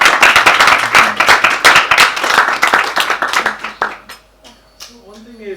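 An audience claps in applause at a talk, a dense run of hand claps for about four seconds that thins out and fades, leaving near silence with a few faint trailing sounds at the end.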